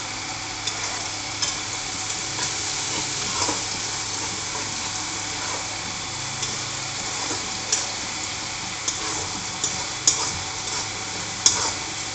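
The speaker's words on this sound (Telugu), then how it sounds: "అది మొత్తం మిక్స్ అయ్యేలాగా ఒక 2 minutes అలా కలుపుతూ ఉండాలి." A pan of spiced curry with a pinch of turmeric being stirred steadily, a spoon scraping and tapping against the pan in irregular clicks over a constant soft sizzle.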